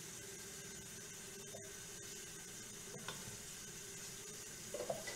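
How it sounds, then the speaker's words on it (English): Chopped red onions sautéing in a pan give a steady, soft sizzle close by, with a few faint clinks of stirring near the end. "These are getting nice and sauteed."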